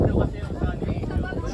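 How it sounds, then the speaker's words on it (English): Wind buffeting a microphone outdoors on a windy archipelago shore, a loud, low, blustery rumble filling the whole moment without pause. "It's a bit windy here."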